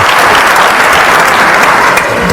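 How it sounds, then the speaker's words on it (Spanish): An audience at a talk breaks into dense, loud, sustained applause, many hands clapping together with no voices over it. "El aplauso es para Mari Carmen."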